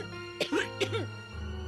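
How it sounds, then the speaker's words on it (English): Becca, a video game character, coughs heavily in two short, close bursts over a steady hum of background music. "Becca starts coughing heavily."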